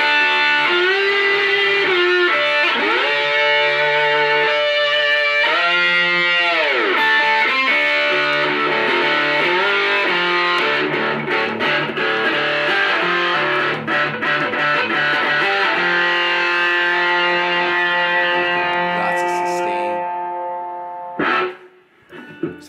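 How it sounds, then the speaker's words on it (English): An electric guitar played through a pedal with the knob pulled out for heavy distortion rings with sustained, gritty chords and bending notes. It is loud and continuous before fading and cutting off near the end, with no talk. "it also has an option to pull the knob out to get really disgusting distortion"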